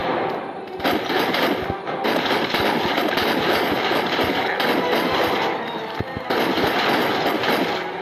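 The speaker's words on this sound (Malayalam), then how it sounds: "ഞാൻ ഒറ്റ വെടിവെക്കുന്നത്" Gunfire in the survival video game Lost of Blue: sharp shots crack repeatedly over a dense, loud, continuous wall of noise, with no voice.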